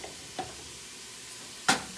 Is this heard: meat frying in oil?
yes